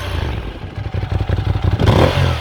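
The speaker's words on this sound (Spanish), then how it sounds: "Y el tercero es el modo Sport, donde la moto es más divertida." A Ducati motorcycle engine in Sport riding mode, heard up close as a loud, choppy mechanical pulse with clattering, rising into a throttle blip near the end, no talk.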